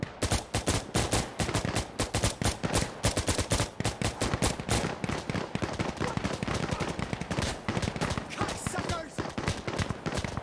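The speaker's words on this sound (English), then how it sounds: "He's shooting through the wall." Rapid automatic rifle fire in Insurgency: Sandstorm, with dense bursts of sharp cracks running nearly nonstop and a brief lull midway, as players talk over the shooting.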